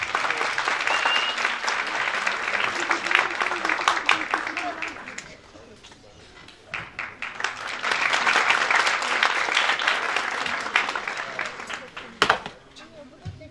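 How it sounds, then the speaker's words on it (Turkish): Audience at a Turkish folk music choir concert applauds as the choir conductor is welcomed onto the stage, with two sustained waves of clapping separated by a brief lull and a final scattered burst, in a hall. "alkışlarınızla sahneye davet"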